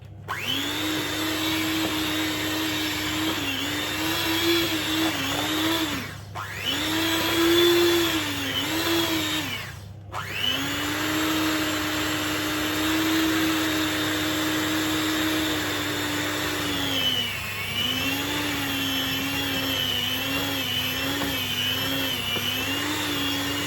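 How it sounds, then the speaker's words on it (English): A hand mixer whirs steadily while mixing sourdough cinnamon roll dough, its loud motor tone dipping briefly twice as the beaters catch and then resuming, with no talking. "I am mixing it with a hand mixer."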